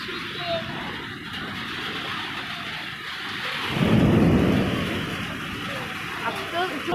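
Steady rain falls outdoors on a university campus. Around the middle, a deep rumble of thunder swells and fades, and a voice speaks intermittently over the rain.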